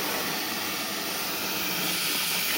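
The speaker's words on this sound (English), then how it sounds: "There's the steam." Carpet cleaning machine heating water, about 18 years old, gives off a steady broad steam hiss that fills the whole stretch at constant loudness, close by and unbroken, with no voices.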